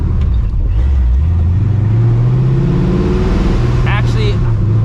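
A cammed, procharged 1999 Mustang GT does a roll pull with no traction, its engine roaring loud and close as the revs climb steadily, drop briefly, then climb again, with a faint high whine near the end.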